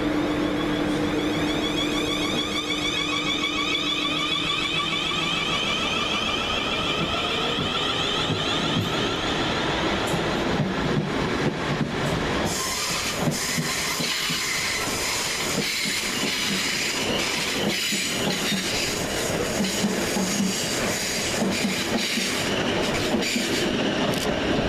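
A South Western Railway class 450 electric multiple unit pulls out of Richmond station on the Reading to London Waterloo service, a loud close rumble of wheels with rail clatter, hiss and squealing that shifts as the train gathers speed.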